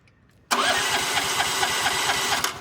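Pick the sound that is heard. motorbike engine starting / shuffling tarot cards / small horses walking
motorbike engine starting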